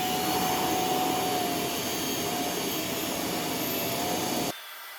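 A Milwaukee M12 shop vac with a spinning, articulating Air Tip brush runs with a loud, steady whooshing roar up close, then abruptly drops to a quieter hum near the end.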